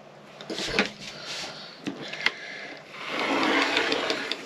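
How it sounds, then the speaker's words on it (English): A rotary cutter rolls across fabric on a cutting mat, producing close, scratchy slicing strokes with a few clicks, the longest stroke near the end. "using my rotary cutter at 3 inches,"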